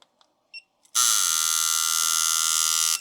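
A Dan Kubin V3R Sidewinder tattoo machine switches on at 5.5 volts after a few faint clicks and runs with a steady, loud, high-pitched electric buzz for about two seconds before cutting off.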